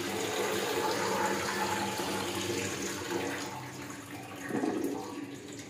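Water draining and trickling from washed ash gourd pieces through a woven basket in a home kitchen, a continuous splashing pour that swells briefly near the end, with no talking.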